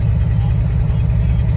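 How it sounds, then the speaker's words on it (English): The engine of a 1978 Ford F150 pickup idles slightly high, a close, loud, steady low rumble with an even pulsing beat and faint clatter. "She's idling a little high right now"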